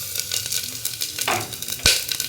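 Cumin seeds, dried red chilies, cloves, cardamom and black pepper sizzle and crackle in hot mustard oil for a mushroom capsicum curry in a pressure cooker, a close steady frying hiss with scattered pops and a sharp clink near the end.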